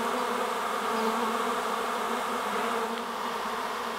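A swarm of honeybees buzzes steadily around a pear tree outdoors, a dense continuous hum filling the whole stretch at close range with no talking.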